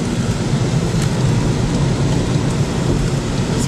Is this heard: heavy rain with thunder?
yes